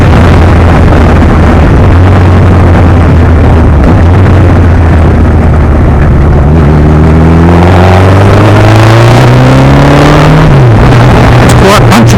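A 1200 motorcycle engine on a shakedown ride, loud and steady, with wind rush, then rising through the revs as it accelerates, before the pitch drops and climbs again.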